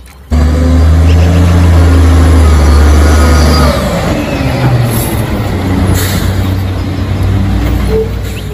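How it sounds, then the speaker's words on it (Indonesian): A garbage truck's engine rumbles loudly and steadily with a deep low drone, then shifts into a rougher, broadband churning noise with faint hissing, continuous throughout. "Wehehe, ada truk sampah teman-teman."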